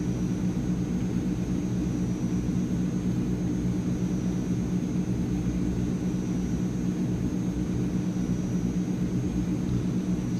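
Transall C160 cargo aircraft landing at full flaps in Microsoft Flight Simulator, a constant loud low engine and propeller drone with no change across the span.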